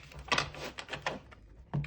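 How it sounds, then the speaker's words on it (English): A deck of tarot cards is shuffled by hand, quiet close-up bursts of flicking and rustling cards with brief pauses between them. "let's go ahead and do one last shuffle."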